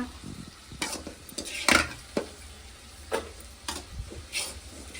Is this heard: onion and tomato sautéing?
yes